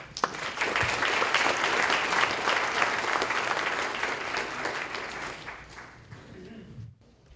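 An audience applauds to welcome speakers Tim and Melody: close, full clapping rises quickly, holds for about five seconds, then thins and dies away, ending in near silence.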